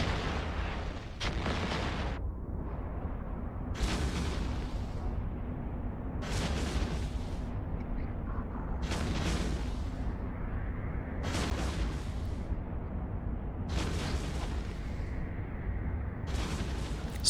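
Battleship exploding in the space game Eve Online, a series of repeated deep booming blasts roughly every two to three seconds over a continuous low rumble.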